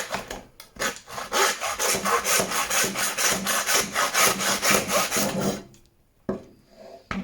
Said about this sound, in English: And sawing it off.